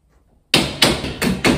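Four loud, sharp hammer strikes land in quick succession after a brief quiet moment, each with a short ringing decay.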